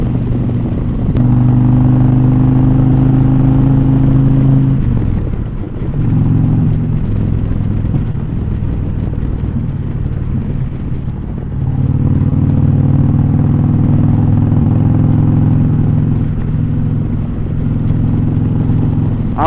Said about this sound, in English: I'm putting some miles on this Indian Pursuit